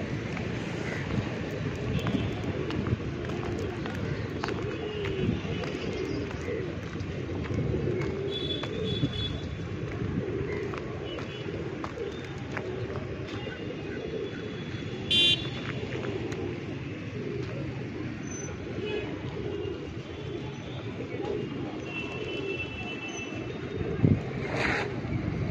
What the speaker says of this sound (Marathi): इथे बघा एक प्रकारचा कबूतर खानाच आहे